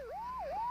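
A police siren in a Filipino comedy film wails alone in a single short rising-and-falling sweep, fairly loud and steady with no talk over it.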